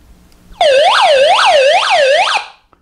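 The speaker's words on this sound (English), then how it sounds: "That was the SOS alarm, and it flashes the light rather loud." A small MAKSH AM/FM weather-band emergency radio with a built-in flashlight sounds its SOS alarm: a loud, close electronic siren wailing in repeated rising-falling sweeps for about two seconds, then cutting off.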